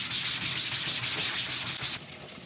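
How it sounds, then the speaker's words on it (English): Close, loud scrubbing as a scrub brush rubs degreaser over a screen printing screen, a rhythmic swish of repeated strokes about four per second that softens slightly at the end. "this time I'm going to use our scrub brush for degreasing."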